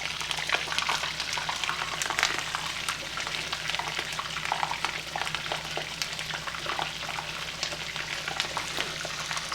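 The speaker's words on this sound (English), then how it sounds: "after frying my fish for 3 minutes on each side" Fish fries in hot oil for Jamaican escovitch fish, giving a steady, dense crackle and sizzle that stays close and fairly loud throughout, with no talking.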